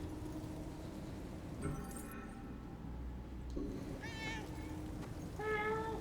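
Cat meowing in the video game Murdered: Soul Suspect, a few drawn-out meows toward the end over quiet game ambience, with a short voice heard earlier.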